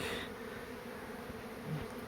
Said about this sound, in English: I'm going to smoke all the bees out of here and aiming to push them up towards to go into the box